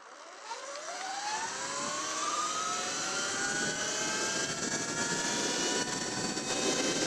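79bike Falcon M electric dirt bike running flat out at top speed, a loud, steady high whine with rising tones and rushing wind noise that holds close and constant throughout.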